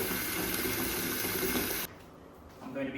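Water pours from a one-litre jug into a hired Britex carpet cleaner's tank, a steady broad splashing flow for nearly two seconds before it cuts off, leaving quieter trickles and faint handling sounds.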